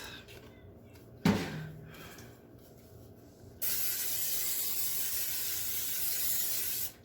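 A spray can gives a knock or click, then a loud, steady hiss of spraying that runs unbroken for about three seconds before cutting off.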